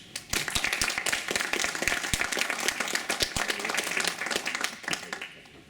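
A lecture audience on parapsychological phenomena applauds with dense, sustained clapping that starts abruptly and fills the room without letup.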